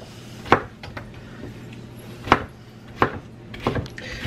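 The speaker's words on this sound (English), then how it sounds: "we can go ahead and make nice slices of pineapple" A knife slices pineapple into pieces on a cutting board, giving four or five sharp, close thuds at uneven intervals over a low background hum.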